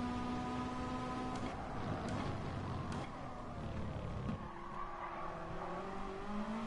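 A racing car in a video game roars steadily as it runs off the track from over-accelerating, with tire skidding and shifting engine tones, a continuous loud motor sound with no talking.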